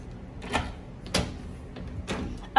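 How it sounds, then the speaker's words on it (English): Someone tries to open a locked door in a resort suite, producing three separate rattling clunks spaced about half a second apart against quiet room tone. "I don't think this door opens"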